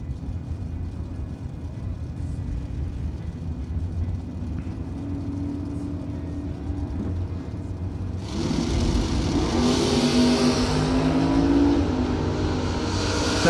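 Drag race at a bracket event between a Malibu and a Chevelle, a steady engine drone that jumps into a loud roaring launch partway through, with rising whines and engine tones as the cars pull away down the strip.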